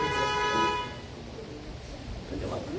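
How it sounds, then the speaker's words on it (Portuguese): Outside, a car horn gives a sustained toot at moderate distance, then fades into a murmur of street noise and faint voices. "Uma pessoa que está buzinando ali"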